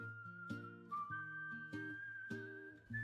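A tune is whistled in steady, clear notes over a light plucked accompaniment with a regular rhythmic pulse, no voices.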